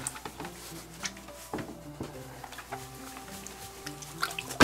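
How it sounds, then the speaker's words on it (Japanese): A large shellfish is rinsed with vinegar to wash off its slime, giving close, irregular dripping and splashing of liquid with small handling knocks and a louder clatter at the very end. "ちょっとね、ぬめりがあんまり取れないんで、酢でもう一回ちょっと洗います。"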